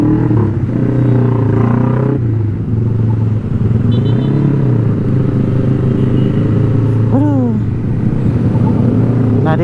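A Yamaha R15 motorcycle pulls away on a Makassar road, its engine droning loud and close throughout, with a brief rising rev near the end.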